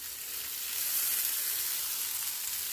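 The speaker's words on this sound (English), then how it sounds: "let that saute for about 1 minute" Vegetables seasoned with all-purpose sazon and a herb blend sautéing in a pan, a loud, continuous hissing sizzle that holds steady throughout with no talk.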